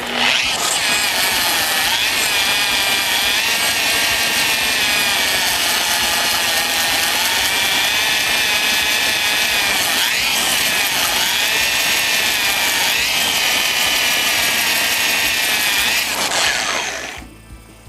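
Spinning wire brush on a drill scouring rust off a Bolens riding mower part, a loud, continuous high-pitched grinding whine with a brief dip midway, stopping near the end.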